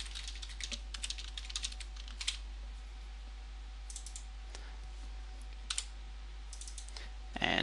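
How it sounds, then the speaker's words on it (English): Computer keyboard typing while entering questions into an interactive PowerPoint slide, with irregular bursts of soft key clicks separated by pauses and a steady low hum underneath, ending in a slightly louder flurry of keystrokes. "Then simply type in question two."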